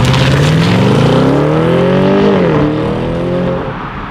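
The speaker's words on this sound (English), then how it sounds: "This acceleration is absolutely amazing, possibly because of that full-time xDrive all-wheel drive system, but there was no spinning." BMW 750i xDrive luxury sedan from 2020 accelerating hard, a loud engine note rising steadily in pitch, dipping briefly at a gear change, then pulling on and fading slightly.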